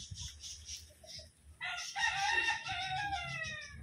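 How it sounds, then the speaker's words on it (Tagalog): A loud, drawn-out peacock call rings out after a short quieter stretch, harsh and wailing, with fainter calls and rustling before it, at an animal sanctuary and zoo in Pililla, Rizal, Philippines. "Ito yung mga peacocks."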